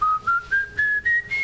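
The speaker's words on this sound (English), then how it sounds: "Whistle a little something for us." A man on a late-night talk show whistles a short, clear, rising melody of his own song in steady bright phrases, with no talking over it.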